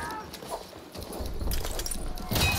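A horse's hooves clatter in a rapid galloping rhythm in the Battlefield 1 video game, close and moderately loud, with a noisy background and no clear speech.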